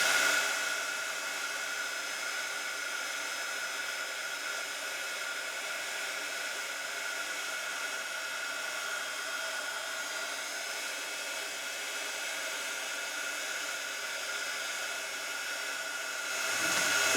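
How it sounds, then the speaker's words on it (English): A heat gun blows a steady, loud airy roar while it melts embossing powder over texture paste on a handmade card. The roar runs continuously and alone, easing off right at the end. "once you start to heat this with your heat gun, the texture paste will bubble, but the embossing powder will melt"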